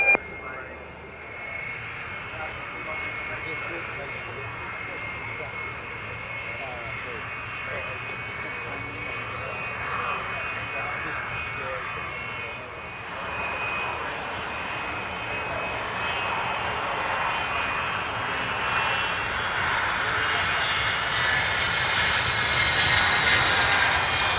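A Falcon jet comes in to land, its engine roar steady and distant at first, then building louder and brighter toward the end.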